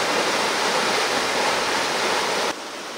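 Rushing white water roars steadily and loudly up close, a dense continuous wash that drops to a slightly quieter level near the end, with no voices.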